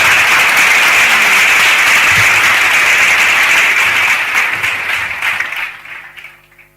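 Loud, dense applause from a live-streamed student quiz audience at a University of Ibadan club event, steady for about five seconds, then thinning and dying away near the end.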